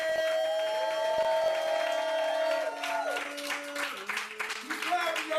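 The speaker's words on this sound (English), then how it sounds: "Keep clapping, y'all." An audience claps and whoops for a poet at a spoken word event, the clapping running under a loud, sustained sung or shouted voice, with a shift in pitch partway through.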